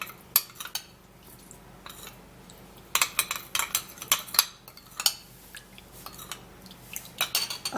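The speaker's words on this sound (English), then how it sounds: "I'm going to stir this all up and make sure it mixes really well" A spoon stirring a turmeric powder mixture in a small bowl, with a few isolated clinks at first, then a busy run of scraping, tapping metal-on-ceramic strokes, close and uneven.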